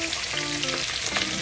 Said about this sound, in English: You don't fry it fast.